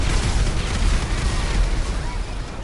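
A big explosion in a PS4 video game, a loud continuous low rumble of blasting and roaring that holds steady throughout with no speech over it.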